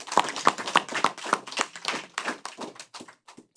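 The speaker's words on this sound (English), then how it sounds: "So give our government a round of applause." Applause from an audience at a national town hall meeting, a short burst of rapid handclaps that thins out and fades to scattered claps within a few seconds.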